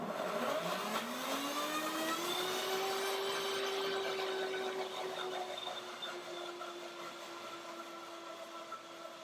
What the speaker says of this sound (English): So blending it with a banana makes it runnier.